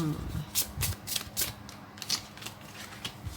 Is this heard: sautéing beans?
no